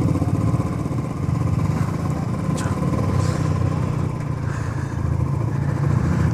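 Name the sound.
motorcycle engine during a mountain bike ride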